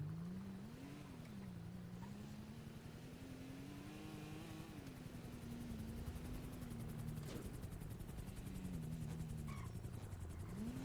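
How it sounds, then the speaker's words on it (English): A helicopter in GTA V drones steadily with a low, wavering rotor and engine tone, its pitch slowly rising and falling as if circling overhead at moderate distance, continuous throughout without talk. "There's a fucking helicopter. No way. Did you see that? I hear it."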